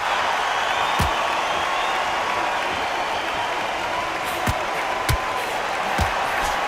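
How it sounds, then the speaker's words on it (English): A boxing arena crowd in the Undisputed video game, staging Tyson Fury against Oleksandr Usyk, gives off a constant, loud broadband buzz, broken by a few sharp thuds and claps near the end. "The crowd here cannot wait. They've been buzzing all day long"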